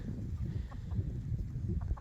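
Chickens cluck and murmur softly throughout, a busy low flock chatter with a few sharper calls near the end.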